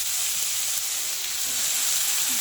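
Banana stem sizzling and frying steadily in a hot pan, a loud, continuous hiss with no talking.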